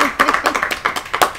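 A small group claps a short, uneven burst of applause with bright, close slaps, and talk is mixed in.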